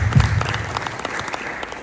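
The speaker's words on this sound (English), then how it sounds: "that deserves a round of applause as well" Brief applause from an audience, a steady wash of clapping lasting only a couple of seconds.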